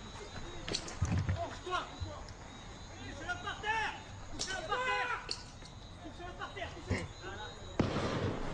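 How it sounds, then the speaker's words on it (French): Gunshots ring out during a riot in Guadeloupe, a scatter of sharp cracks and bangs at a distance amid crowd noise, shouting and voices, with running footsteps and a chaotic outdoor din. "Plusieurs coups de feu sont tirés"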